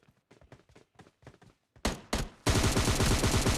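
Gunfire in the mobile battle-royale game PUBG Mobile Lite: a few soft footstep-like taps, two sharp close shots, then a loud continuous burst of rapid automatic fire.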